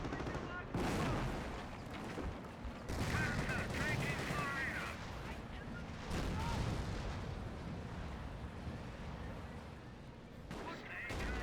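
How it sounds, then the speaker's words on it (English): A 25 pounder artillery barrage in Company of Heroes lands as a series of heavy booming impacts in several waves, with rumbling explosions and a commentator talking over them. "Got 25 pounder barrage raiding on in."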